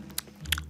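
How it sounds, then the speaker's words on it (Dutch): A sausage being bitten and chewed up close: two distinct crisp bites followed by soft, wet chewing, fairly quiet, with no talking. "Hij neemt nog een hap."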